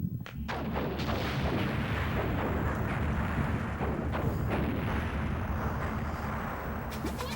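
Torpedo explosions in the video game Skies of Arcadia Legends form a loud, continuous roar of booming blasts and rumble that fills the whole stretch without a break, and no voices can be heard.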